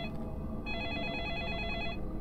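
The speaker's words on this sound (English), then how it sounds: "the phone ringing in-game disturbed her" An in-game telephone rings in Deadly Premonition, one steady electronic ring lasting just over a second against a quiet, low background hum.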